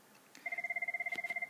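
A telephone rings during a lesson, a rapid electronic warble that trills steadily for about a second, with a couple of faint clicks over it.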